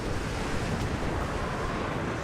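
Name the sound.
wind in Tomb Raider video game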